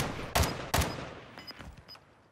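Two sharp gunshot cracks ring out in a Call of Duty: Modern Warfare II match, then fainter distant shots and bullet-impact pings trail off over a couple of seconds.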